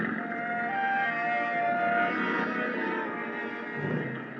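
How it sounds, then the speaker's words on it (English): A big gas engine aboard a boat drones steadily at close range, a rich rumbling roar with sustained tonal hum, filling the scene as a radio drama effect with no voices over it. "The big gas engine took over where the wind dropped us, and Captain Granger stood at his wheel"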